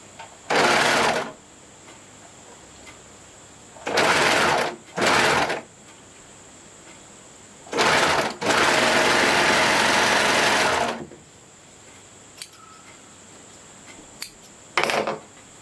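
Sewing machine stitching bikini bottoms at the side seams, running in several loud close bursts of rapid whirring, the longest lasting about three seconds, separated by quiet pauses with faint handling clicks.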